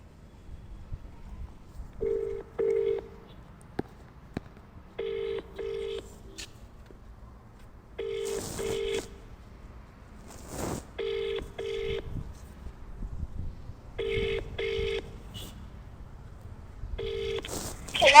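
Phone ringing during an outgoing call, with paired electronic ring bursts repeating at steady intervals. Faint background sounds fill the gaps, and no one speaks.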